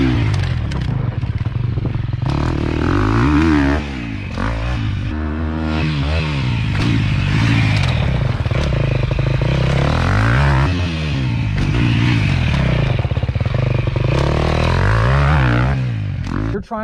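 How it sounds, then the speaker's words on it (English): A dirt bike's engine roars loudly throughout with shifting, wavering revs on a motocross track, close and continuous, and the pitch drops toward the end as the rider slows. "Trying to get stopped with the clutch pulled in, so you're doing like this crazy skid the whole way up the berm."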